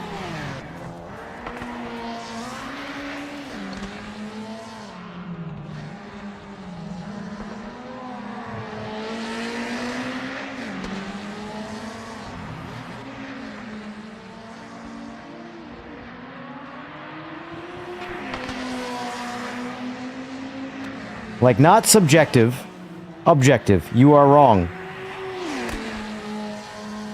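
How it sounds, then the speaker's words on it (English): Mazda 787B race car in the Project Motor Racing video game, its rotary engine a steady high-pitched drone that rises and falls through gear changes, with sharp loud revving bursts near the end and a brief spoken exchange over it. "Someone in the Discord is saying that the 787B sounds nothing like the real thing."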